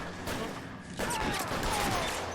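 Gunfire rattles in a firefight in L.A. Noire, a dense, continuous crackle of shots at moderate distance, growing louder partway through amid game ambience.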